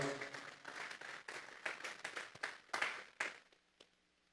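A church congregation claps together as an offering to God during a Spanish-language service. The claps are loud and uneven at first, then thin to a few scattered ones before fading out.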